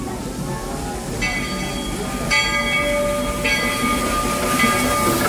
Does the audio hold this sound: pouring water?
no